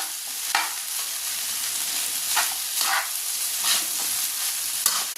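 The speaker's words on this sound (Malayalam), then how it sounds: "ഹൈ ഫ്ലെയിമിലിട്ട് വേണം ഇതൊന്ന് മിക്സ് ചെയ്തെടുക്കാൻ കേട്ടോ" Rice stir-fried on a high flame, a dense, steady hiss of frying punctuated by several brisk scraping stirs, close and loud with no one talking.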